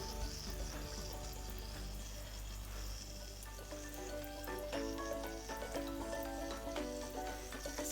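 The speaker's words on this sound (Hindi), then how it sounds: "तो चलिए अब इसको हम फ्राई स्टार्ट करते हैं।" Potato pakoras frying one by one in hot oil, a dense steady sizzle with bubbling crackles, close and fairly quiet, no talking.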